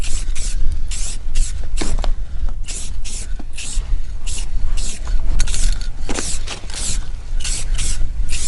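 Hissing bursts of clear coat from a spray can come in short repeated pulses, close by, mixed with rubbing and clicking noises.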